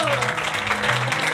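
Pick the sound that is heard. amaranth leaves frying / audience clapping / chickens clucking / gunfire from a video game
audience clapping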